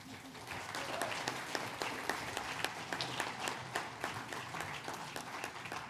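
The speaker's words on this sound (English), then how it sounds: "give a big round of applause and a warm welcome to each and every one of our new graduates" Sustained applause from a large audience at a graduation ceremony, dense and even, continuing throughout at a moderate distance.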